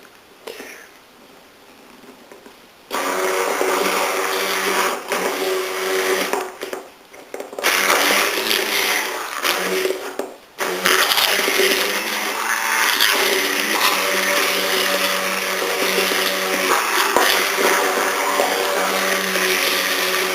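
An electric blender mixes aioli at speed setting 11. It starts after a quiet moment and runs loud and close with a steady whirring drone, briefly dipping and cutting out twice before continuing without stopping.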